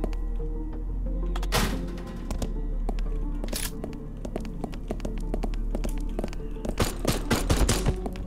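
Gunfire in the video game Haydee, scattered shots and short bursts of firing over a steady low background hum, some sharp and loud, growing denser toward the end, with a player's voice faintly present.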